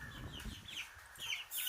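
Chicken chick kept as a new pet at home, peeping in a few short, high, close chirps spread across a brief moment with no talking.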